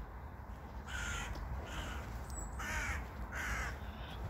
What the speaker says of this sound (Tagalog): Ano ba yung uwak na yan?